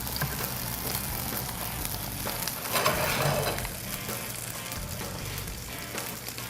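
Hash browns sizzling in a hot pan, a dense continuous crackle and spatter with stirring scrapes that briefly intensifies midway, close and steady, with no voices.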